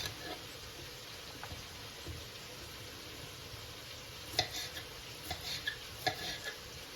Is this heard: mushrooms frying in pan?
yes